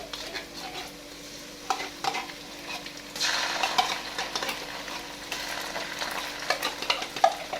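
Tomato sauce sizzles steadily in a pan of chicken livers while a utensil stirs and scrapes through it, close and continuous, with no voices.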